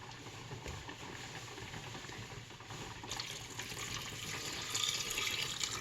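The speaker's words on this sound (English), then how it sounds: "So let's add some water to this." Water runs steadily from a tap into a pan of dried black-eyed peas on a stovetop, a continuous close hiss that grows slightly fuller as the pan fills.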